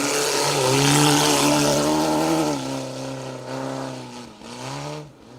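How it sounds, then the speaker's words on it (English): A little Peugeot 205 GTI rally car runs a stage of the Roger Albert Clark Rally. Its engine note climbs and falls loudly as it passes close by, then fades slightly as it pulls away. "Aaron McClure throwing the little Peugeot 205 GTI through the stages"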